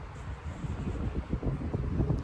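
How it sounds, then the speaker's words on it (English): Steady gusty wind buffets an outdoor garden, a continuous low rumbling roar with fluctuating intensity, close and fairly loud, with no voices. "I hope you guys can hear me over the wind"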